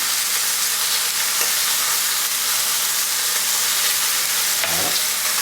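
Lamb shanks sizzle in a pan with orange, a loud, steady frying hiss that fills the space, with brief stirring scrapes and no talking.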